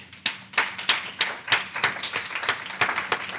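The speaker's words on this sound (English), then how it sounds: "let's give one more round of applause for all of our presentations today." Audience applause at a campus club meeting after student presentations: a room of hands clapping steadily, with sharp individual claps standing out, fairly close and with no talking over it.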